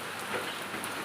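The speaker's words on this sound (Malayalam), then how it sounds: "നല്ല മഴ കേട്ടോ." Heavy rain falling outside makes a brief, even wash of hiss with no voices.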